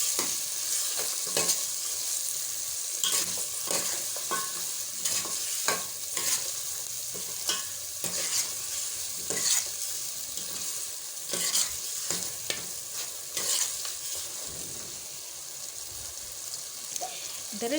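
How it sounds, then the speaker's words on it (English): Tomato paste and pilau masala mixture frying in a pot, a steady bright sizzle with frequent scraping and clinking stirring strokes throughout, close up and without talk. "Now you have to stir for the mixture to be everywhere."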